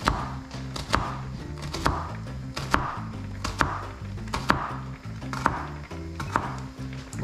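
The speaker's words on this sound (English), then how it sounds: "when you want to chop, an onion very finely, you keep the root" A knife chops an onion finely on a cutting board in a home kitchen, steady rhythmic sharp taps about once a second, close and fairly quiet, with no talking.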